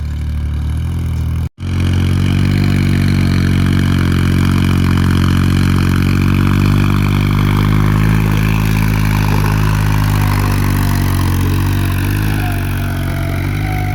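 A tractor engine runs loud and close with a steady low rumble and strong harmonic drone, briefly cut off near the start, on a farm where gravel fill is being hauled in a trolley; no one speaks.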